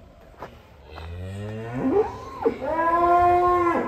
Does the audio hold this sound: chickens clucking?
no